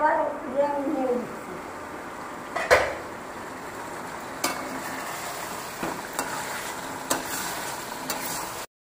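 Chicken kosha being stirred in a pan, a utensil scraping and clinking against the metal in irregular strokes over a soft sizzle, with occasional sharp knocks and a voice speaking early on.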